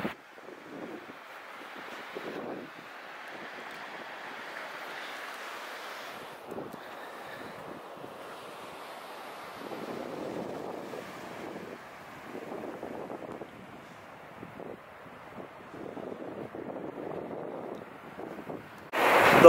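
Wind buffets the microphone over a steady wash of surf, with waves rising and falling in soft, continuous swells.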